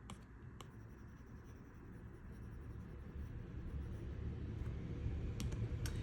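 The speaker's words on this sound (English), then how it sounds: "I just take my eraser, erase what I have inside" An eraser rubs across paper over a pencil drawing, a quiet scratchy scrubbing that swells gradually over several seconds, with a few faint clicks and no voice.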